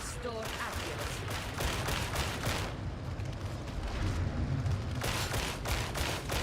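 Sustained, dense gunfire from the Warhammer 40k Darktide video game, with rapid overlapping shots continuing through the whole stretch, loud and close, and a few heavier surges.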